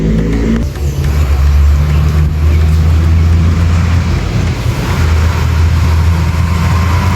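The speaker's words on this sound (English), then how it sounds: "This is a Tiantec truck." Heavy truck engine rumbling steadily nearby at loud level, a constant low drone with no pause, outdoors in Trinidad.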